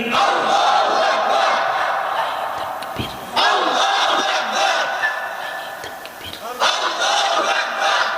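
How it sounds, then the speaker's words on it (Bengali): A large crowd at an Islamic sermon gathering roars the takbir chant in unison, a loud sustained mass shout repeated in three surging waves, each call swelling and fading before the next. "এবার আকাশ বাতাস মুখরিত করে তাকবীর দিতে হবে"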